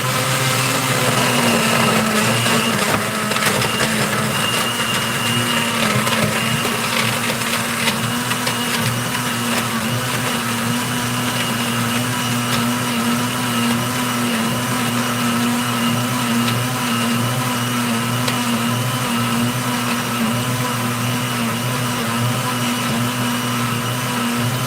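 Blender whirring steadily through a smoothie of frozen fruit and ice, a loud continuous motor drone with a constant hum and slight grinding texture for the whole stretch, no talking.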